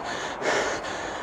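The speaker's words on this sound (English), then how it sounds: "I do feel I need to apologise for my horrendous breathing at this point." Heavy, ragged panting from a runner in a trail marathon, a couple of loud breathy gasps close to the microphone with no talking.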